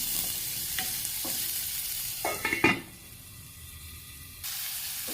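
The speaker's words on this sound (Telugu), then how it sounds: "ఫస్ట్ అయితే ఆనియన్స్ ఫ్రై చేసుకుందాం" Onions fry in a pan with a steady, close sizzle, broken by a few clattering stirs and a brief loud burst before the hiss settles and picks up again.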